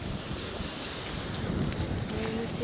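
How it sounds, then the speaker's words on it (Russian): Wind buffeting an outdoor microphone at a resort park in Anapa, a steady low rushing roar with faint background sounds, fairly quiet throughout. "ветер-то, смотри, ветер-то, по-моему."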